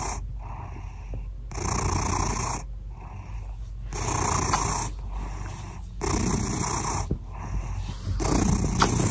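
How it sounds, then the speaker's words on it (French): A cat purring loudly, close by in a bed, in a steady rhythm of long rumbling breaths with short gaps between them. "Gros ronron."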